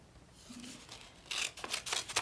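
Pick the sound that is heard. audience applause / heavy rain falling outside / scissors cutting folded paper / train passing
scissors cutting folded paper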